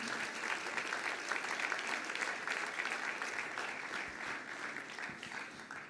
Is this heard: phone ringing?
no